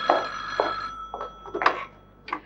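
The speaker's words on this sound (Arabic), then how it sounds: "طب رد على التليفون" A telephone rings in a home scene of an Egyptian TV drama series, with a few bright electronic ringing bursts spaced across a quiet room at moderate loudness.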